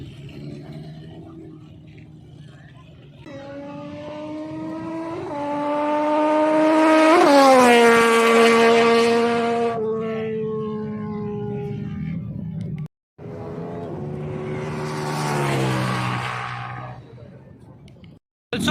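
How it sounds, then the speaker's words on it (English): A Mercedes C63 AMG rolls into a car meet, its engine droning and rising in a sustained, loud rev with harmonic growl, dipping and swelling again near the end amid crowd noise. "Clyde Fernandez rolling in the C63 AMG."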